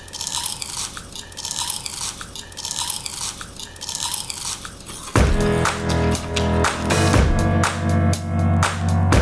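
Crispy homemade kale chips crunched close to the mouth: first a rhythmic series of crisp bites and chewing, then a louder, denser run of sharp crackling crunches.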